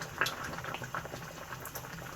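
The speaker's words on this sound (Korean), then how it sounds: "천일염 그리고 멸치 액젓 이렇게 같이 끓여줍니다" Seaweed soup with onion and cheongyang chili bubbles in a pot at a steady boil, a soft continuous patter of small bursting bubbles heard up close and fairly quiet.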